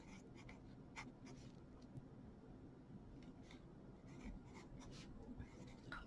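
Pen or pencil scratching across paper while taking notes during a fraction lesson, a steady close-up scritching with short strokes and pauses, alone over a low room hum.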